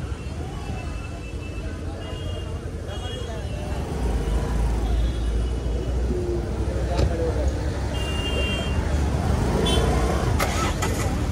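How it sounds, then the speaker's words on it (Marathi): Road traffic jam after an accident on a route toward Uran Beach, with a constant low rumble of idling and creeping cars and buses, occasional horn tones, and people talking nearby throughout. "अरे म्हणून ट्रॅफिक झाला."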